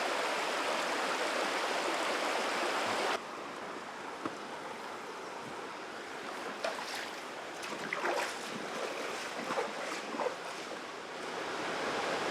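A stream flowing under a bridge with a dipper nearby, a loud broadband rush of water that drops to a softer, steadier flow partway through, with faint bird calls and small splashes over it.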